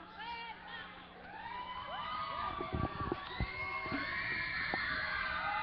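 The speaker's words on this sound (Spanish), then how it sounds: "Fuerte el aplauso." Audience at a Mexican school youth program cheers and shouts continuously, with whoops and high children's voices rising over a steady crowd roar; clapping is not clearly distinct beneath the cheering.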